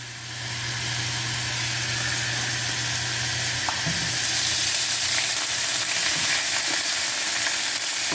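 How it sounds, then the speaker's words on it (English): Steak sizzles loudly in a hot pan, a steady dense hiss of frying fat that swells as the meat goes in and keeps crackling without pause, with a low hum underneath early on. "I'm going to go ahead and get them in the pan back here in the back."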